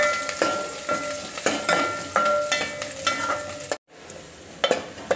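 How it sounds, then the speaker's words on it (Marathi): Sliced onion and garlic cloves frying in a pan with coconut, heard as a close, crackling sizzle with repeated scrapes of stirring, a brief drop to silence near the end, then sizzling again. "हे 1 कांदा कापून घेतलेला, हे भाजून घेणार आहे चांगलं लाल होईपर्यंत"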